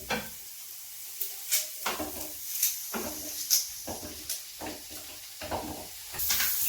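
Chopped onion fries in a pan for carrot lasagne, a soft steady sizzle under repeated clinks and scrapes of a utensil stirring against the pan, close and moderately loud.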